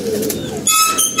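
Pigeons at a loft, a brief low cooing close by followed by a higher thin call, short and clear with no talk.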